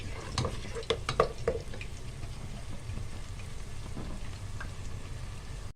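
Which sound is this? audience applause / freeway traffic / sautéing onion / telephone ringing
sautéing onion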